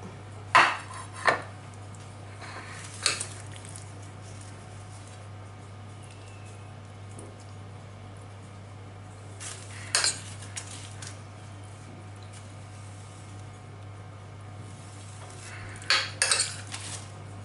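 Metal utensils clink and scrape against a dish while zucchini shells are stuffed with a hake and prawn filling, a few sharp knocks close by over a steady background hum.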